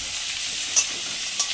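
Chopped onion and cumin seeds frying in hot oil with dried red chilli, a continuous bright sizzle with two small sharp spatters, heard close with no voices.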